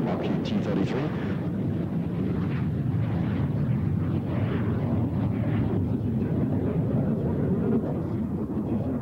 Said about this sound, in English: running up the engine now, that Rolls-Royce Mean 10 engine